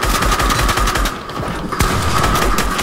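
Rapid automatic gunfire in the Fortnite battle royale video game, a loud close burst of repeated shots with a brief gap before the firing resumes.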